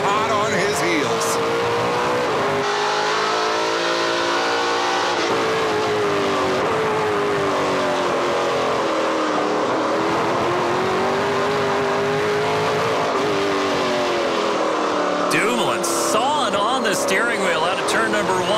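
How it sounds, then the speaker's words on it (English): NASCAR Pinty's Series stock cars racing on a road course in 2019, engines roaring and shifting continuously as cars accelerate and brake through turns, loud and dense, with a commentator talking over them throughout. "And now it's Alex Tagliani's turn to lead some laps in that Rona EpiPen number 18."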